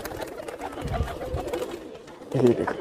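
Allahabadi pigeons in a pet shop give low cooing sounds, with a louder burst of coos near the end, while someone talks over them.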